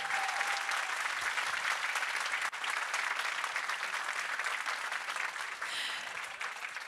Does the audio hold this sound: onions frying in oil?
no